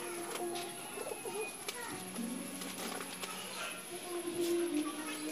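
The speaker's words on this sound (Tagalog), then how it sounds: "So ito guys yung kalapati natin" Domestic pigeon recovering from salmonella illness, cooing softly in a loft amid background noise and faint voices, with low repeated coos through the middle of the clip.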